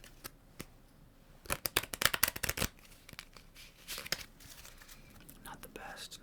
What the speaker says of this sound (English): See if I can shuffle without using a table